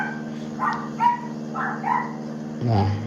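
Dogs barking several times at an open door they are looking out of, a run of separate barks and yips at moderate distance over a steady low hum, with a deeper louder bark near the end.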